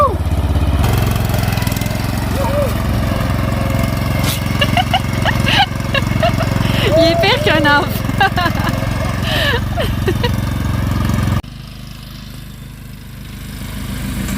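A gas lawn mower engine drones steadily and close by, running continuously under excited family talk and laughter before dropping to a quieter hum near the end.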